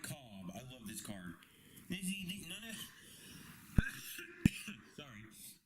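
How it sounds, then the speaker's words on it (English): A man lets out two sharp, loud coughs close to the mic, separated by about half a second, amid his own quiet speaking while looking through baseball cards. "A little bit of a cough there."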